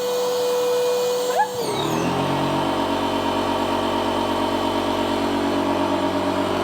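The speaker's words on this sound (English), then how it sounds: "the pump gives a high volume, and then when it gets to a certain pressure, then it switches pumps, so it goes to a pressure pump." An electric pump inflates an inflatable tender boat with a steady, loud motor drone. After about a second and a half the pitch shifts and the tone changes as it switches from high-volume flow to a pressure pump, then it runs on evenly.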